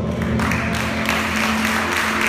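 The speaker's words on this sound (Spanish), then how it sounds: "Dale fuerte palmas al Señor." A church congregation claps together in a dense, sustained burst of applause, loud and close, with a low musical hum underneath.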